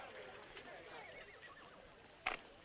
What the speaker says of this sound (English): There's that horse.